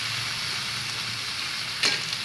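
Vegetables sautéing in a pan for a Marathi-style pavta and drumstick amti, salted to taste: a steady close-up hiss of frying with one brief louder stir or scrape near the end, no talk.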